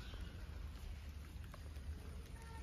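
Rain falling on a rainy day in a village garden with rose bushes, a steady, soft patter of drops with occasional distinct ticks over a low rumbling background, no speech.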